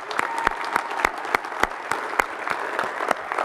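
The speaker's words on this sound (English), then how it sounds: "so give him a big round of applause" Audience applause for a general manager at a winter sports team event, steady clapping from many hands with sharp individual claps standing out, moderately loud and continuous throughout.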